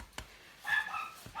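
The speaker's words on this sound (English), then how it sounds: "And now he's barking at our senior Dachshund." A small dog barks at a senior Dachshund indoors. A couple of sharp, separate yips come from a short distance against quiet surroundings.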